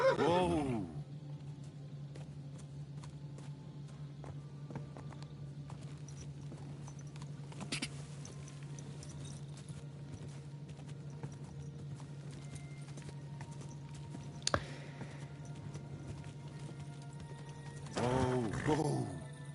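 Horse hooves clip-clop steadily throughout a medieval open-world scene in the video game Kingdom Come Deliverance 2, over a constant low hum, with a brief whinny and a few clanks near the end.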